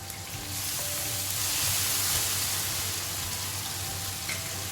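Chopped tomato cooking down in a pan for plain biryani, giving a loud, steady sizzle and frying hiss that swells slightly midway, heard alone with no talking.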